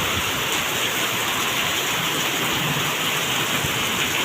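Steady rain pours down in a village, a dense unbroken hiss of drops on surfaces that holds evenly loud throughout with no voices.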